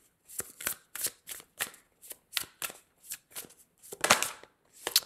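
Tarot cards are shuffled by hand in a quick run of crisp, close riffles and slaps, about a dozen sharp bursts in a steady rhythm with no talking over them.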